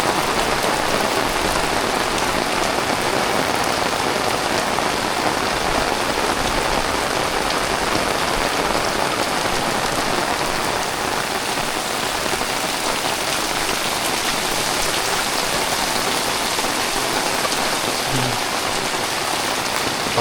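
Heavy morning rain pours onto a village house in Ratnagiri, Konkan, a loud, dense, unbroken hiss of drops drumming steadily with no voices.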